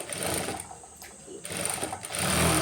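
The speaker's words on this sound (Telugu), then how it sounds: "కుట్టు వేసుకుంటున్నాను" Sewing machine stitching a blouse lining in short bursts, a rapid mechanical whir that pauses and restarts, close and fairly quiet.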